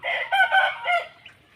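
Chickens on a mixed duck and chicken poultry farm, a close rooster crow broken into several loud bursts with clucking, then fading to a quieter tail, no talking.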